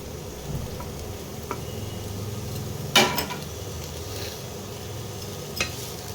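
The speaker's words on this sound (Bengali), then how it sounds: "একটুখানি ফ্রাই প্যানে নাড়িয়ে নিলাম" Chopped grapes and lemon for a fruit chutney being stirred in a frying pan, a soft low sizzle and gentle stirring with a couple of sharp spoon clinks, fairly quiet and close.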